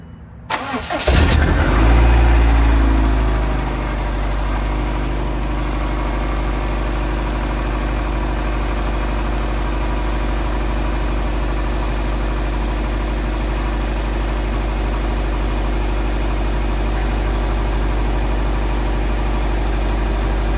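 A 2005 Subaru WRX engine cranks and fires, surging briefly before settling into a steady, even idle that runs on for nearly twenty seconds, close and continuous with no talk.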